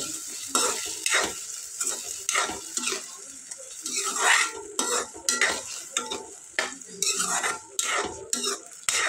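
A spoon scrapes and clatters repeatedly against a pan while a spicy sprouted moth bean curry is mixed over a low flame, with a gentle sizzle underneath the uneven, busy stirring strokes heard up close.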